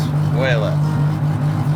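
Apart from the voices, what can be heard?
turbo 2JZ-swapped Dodge Charger engine running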